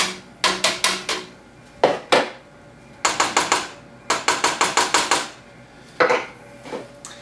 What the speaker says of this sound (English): So here's the tomatoes going in.